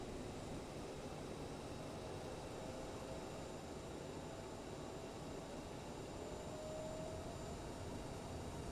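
A CRJ-700 regional jet taxis in a flight simulator game, its engines giving a steady broadband whine and rushing hum with a faint high tone, continuous and even throughout with no voices.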